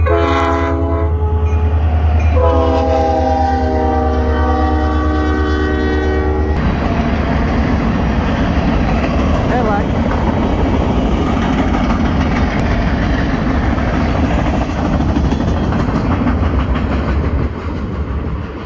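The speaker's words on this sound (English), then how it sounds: "we've got a train coming" A loud train horn blares in sustained chords for several seconds, then gives way to the steady rumble and clatter of a fast train rolling past close by at an intersection in California's Central Valley.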